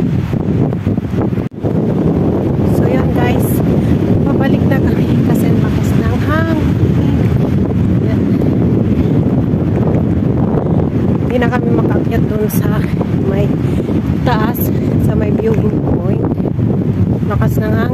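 Steady, heavy wind roaring across the microphone throughout, with a constant rumbling drone and faint indistinct voices underneath, on the Villa Verde Trail in Malico, San Nicolas, Pangasinan.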